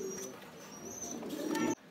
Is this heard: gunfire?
no